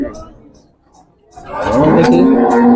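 A loud, drawn-out cow moo rises and holds, preceded by quieter murmuring and background activity at the Gabtoli cattle market.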